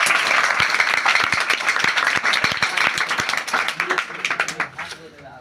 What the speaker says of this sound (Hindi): सभी बालक तालियां बजाएंगे।